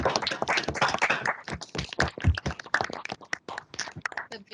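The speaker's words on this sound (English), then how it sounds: "if we can all unmute and give a big round of applause" Scattered applause comes over a video call, uneven claps from several unmuted participants, close and choppy with gaps between bursts.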